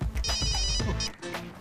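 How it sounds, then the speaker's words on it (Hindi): A telephone rings with a wife's incoming call, a bright trilling bell heard in two short bursts over a low rumbling background, close and fairly loud. "मेरी बीवी का फोन।"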